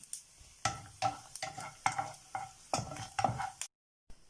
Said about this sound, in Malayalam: നമുക്ക് ആദ്യം തേങ്ങ ഒന്ന് വറുത്ത് കോരാം.